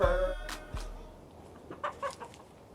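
Chickens cluck in short, scattered bursts, with a few sharper calls toward the end over a low background rumble.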